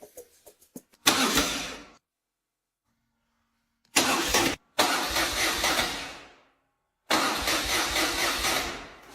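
A neglected BMW R 1200GS motorcycle engine cranks and catches several times in separate bursts, running roughly for a second or two before cutting out, with silence between attempts.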